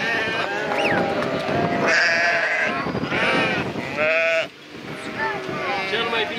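A flock of sheep bleats repeatedly and close by during the autumn descent from the Parâng mountains, with overlapping calls throughout.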